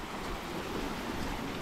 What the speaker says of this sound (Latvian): Laistītāji strādā.